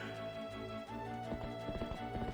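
A horse in Zelda Twilight Princess HD, with rhythmic hoof clip-clops under steady game music, the hoofbeats growing more distinct toward the end.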